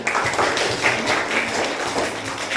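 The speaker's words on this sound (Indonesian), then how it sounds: "tepuk tangan buat Queen" Classroom applause for a student after her group presentation, a continuous patter of many hands clapping at moderate volume, steady and fairly close, with no voices heard.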